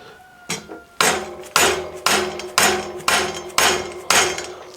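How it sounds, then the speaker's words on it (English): Hammer taps on a nylon part of a wheel assembly while a wheel's bolts are loosened: about seven sharp, evenly spaced knocks, loud and close, each with a short ringing decay. "Give this a bit of a gentle tap on this nylon bit here."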